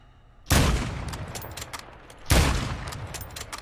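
Two loud bursts of gunfire from Call of Duty Warzone, each a sharp crack followed by a rattling decay, spaced under two seconds apart with no talk over them.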